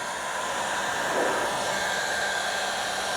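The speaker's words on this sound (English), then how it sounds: "Now we're gonna grab our heat gun." A heat gun blows a steady, loud airy whoosh with a faint motor whine as it heats a high-quality vinyl decal on a 2019-2025 Toyota RAV4, continuous and close with no talking.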